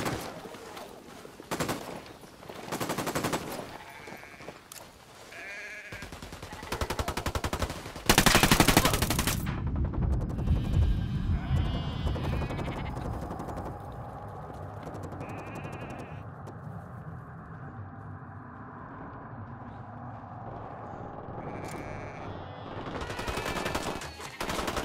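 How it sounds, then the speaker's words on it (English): Gunfire in Tom Clancy's Ghost Recon Wildlands: several sharp bursts of shots in quick succession, loud and close, followed by a quieter stretch of lingering rumble and scattered later shots. "Opening fire."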